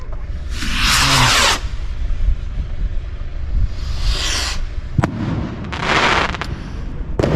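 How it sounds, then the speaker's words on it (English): Fireworks from displays on a car park at Paull beside the River Humber go off in several bursts: crackling, hissing showers and sharp pops, some loud and close, others more distant, separated by quieter gaps. "there's a lot of fireworks going off here because there's a lot of displays on Paull car park"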